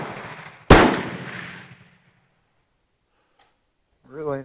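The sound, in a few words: Swedish Mauser 96/38 rifle shot with reloaded cartridge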